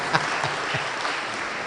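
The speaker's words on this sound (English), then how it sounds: "You can clap, Matajis." Audience at a Sunday love feast in an ISKCON temple clapping, a steady wash of close hand claps lasting the whole moment, fairly loud and without talk.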